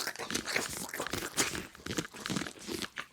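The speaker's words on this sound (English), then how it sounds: "Corn ASMR" Someone eats corn up close in ASMR style, giving continuous crisp crunching and moist chewing bites in irregular bursts, loud and near the microphone.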